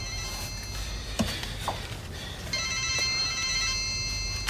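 A mobile phone in a home setting breaks into an electronic ringtone partway through, ringing steadily and moderately loud over a quiet room.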